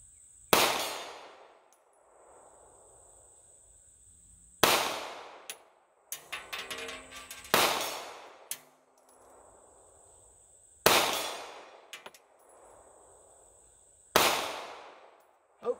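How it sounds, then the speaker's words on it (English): Five sharp, loud Smith & Wesson Bodyguard 2.0 pistol shots fired at a full-size steel target, each crack followed by a faint metallic ring from the hit, spaced a few seconds apart with some rustling between. "Hopefully you can hear those hits. I got all of them on target."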